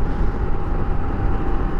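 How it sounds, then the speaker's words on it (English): Honda Transalp 750 on a ride, air rushing through the intake snorkels over a steady low engine drone, loud and continuous with a breathy roar and no talking. "you can hear the snorkels, the air going through the air snorkels"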